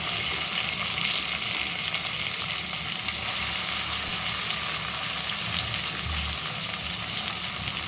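Onion and chopped tomato frying in a pan for ghugni, a loud continuous close sizzle with occasional stirring, no voices.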